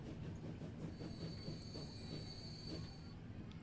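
A train in the game Transport Fever rolls along steadily with a rumbling low roar and faint rhythmic wheel clatter, and a thin high squeal of wheels runs through the middle.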